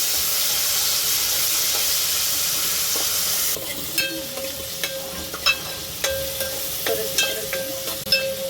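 Tomatoes sautéing in a pan for a mackerel curry, a steady loud sizzle that drops back after a few seconds to softer frying with scattered scraping and stirring clinks, no voices.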